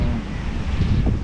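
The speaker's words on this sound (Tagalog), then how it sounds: "Sobrang lakas ang hangin." Strong wind at sea buffets the microphone in a dense, roaring rush, with water and boat noise beneath, loud and unbroken for a brief moment.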